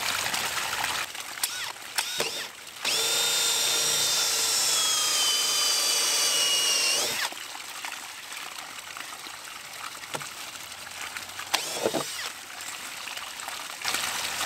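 A power drill bores holes in a prototype filtration container for a kilowatt microhydro turbine, giving one steady whining run of about four seconds, close and loud over a background of trickling water.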